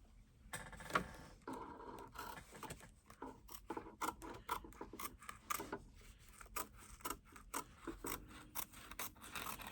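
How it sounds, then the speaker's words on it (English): Scissors trim fabric close along the satin bean stitch of an in-the-hoop zipper placket on a mini tote bag. Faint, rhythmic snipping cuts follow one another steadily with light rubbing sounds between them and no voices. "we're going to go ahead and trim this material along the top edge of the satin or the bean stitch"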